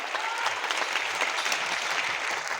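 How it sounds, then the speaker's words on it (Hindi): An audience at a motivational talk breaks into applause, with dense, steady clapping from many hands that keeps an even level throughout and has no voices over it. "शेख सर के लिए मैं चाहूंगा एक जबरदस्त अब तक एक जोरदार तालियां।"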